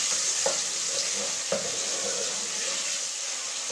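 Mutton stir-fried in a pan over high heat with garam masala for a taro and meat curry: a continuous close sizzle with a few sharp scraping clatters from a utensil stirring.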